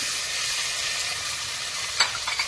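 Tomatoes sizzle steadily in a hot frying pan, a bright continuous hiss broken near the end by a few scraping stirs of a utensil.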